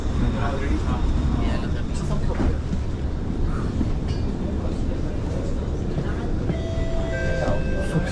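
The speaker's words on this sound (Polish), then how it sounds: "zdążyliśmy na ostatni pociąg" A train in Singapore rumbles steadily for about eight seconds, a loud continuous rolling roar with faint clatter and high tones near the end.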